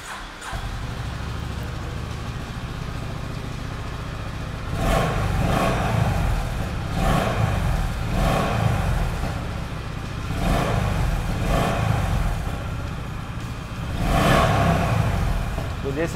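A powerful motorcycle exhaust is revved in several sharp bursts over a steady running rumble, loud and close, with a voice speaking in between.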